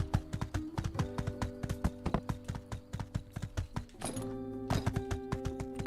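Horse hooves gallop in Stardew Valley Expanded, a rapid, steady clip-clop of hoofbeats over looping game music, loud and up front, with a brief sparkling chime partway through.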